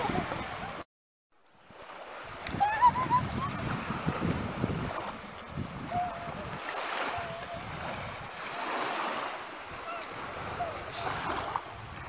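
Sea waves wash onto a shore in a steady, continuous roar, with gusts of wind buffeting the microphone after a brief cut near the start.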